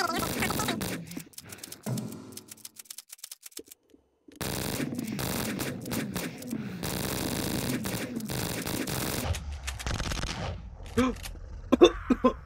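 Railgun fire in the Boxhead flash video game comes as rapid, dense bursts of gunfire in several loud stretches separated by short gaps, with scattered shots and impacts toward the end.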